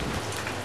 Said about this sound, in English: And out in this freezing rain, too.